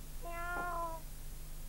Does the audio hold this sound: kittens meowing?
yes